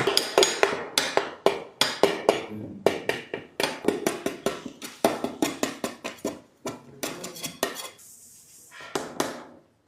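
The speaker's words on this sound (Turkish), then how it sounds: "Şimdi dilimlemeye geçiyoruz." A knife cuts through a tray of Gaziantep baklava layered with butter, producing a steady run of sharp tapping chops against the pan bottom, close and crisp, with a brief pause near the end.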